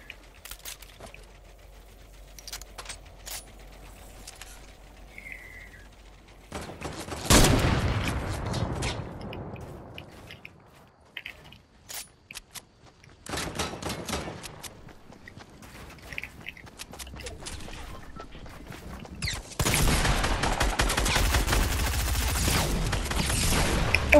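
Fortnite gunfire: bursts of loud shots and rapid volleys in two dense stretches, with scattered single cracks and quieter game noise between them, no talk.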